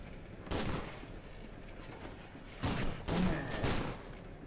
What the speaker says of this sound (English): Oh, automatic shotgun.